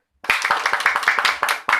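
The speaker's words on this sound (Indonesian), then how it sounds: "Beri tepuk tangan untuk Habib." A classroom of pupils claps for a student, starting abruptly after a moment of silence with a brief burst of close, irregular hand claps.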